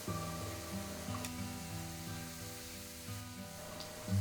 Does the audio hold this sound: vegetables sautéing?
yes